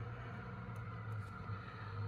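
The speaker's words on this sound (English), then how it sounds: "there's noisy lorries outside, but my window's shut" Heavy lorries pass outside behind a closed window, a steady low rumble of engines and tyres filling the background at a faint, muffled distance with no talk.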